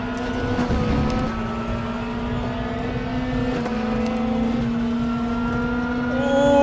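A car does a burnout in a racing video game: a sustained, droning engine whine with layered harmonic tones holds steady, then climbs and swells louder at the end.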